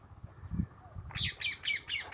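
Parrots squawk in a guava orchard on a small farm, with four quick, harsh calls repeating in a steady rhythm after a quiet start. They sound faint and somewhat distant.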